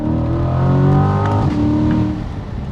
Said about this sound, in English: Those pops on the upshifts, they sound so good.